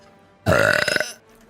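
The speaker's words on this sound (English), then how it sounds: "I burped and it tasted." A single loud, close burp rolls out for about half a second with a croaky, rattling texture, heard alone against quiet.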